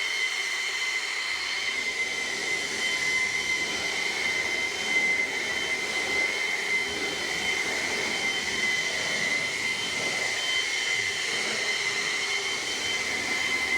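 An air blower drives a steady, loud rushing roar with a high whine layered on top while drying a freshly washed car, continuous and close throughout, with no talking.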